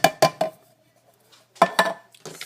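Chili beans scraped out of a can into a pot, with several sharp metallic clanks and scrapes in two quick bursts separated by a brief pause, close and clear, with no talking.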